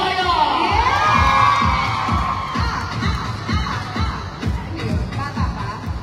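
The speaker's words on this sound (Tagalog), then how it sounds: "kailangan muna natin marinig ang palakpakan at hiyawan ng bonggang-bongga" A large crowd at a mall show at Robinsons Antipolo shouts and screams excitedly in a loud, sustained roar of cheering, with shrill young voices and a pulsing, rhythmic chant underneath.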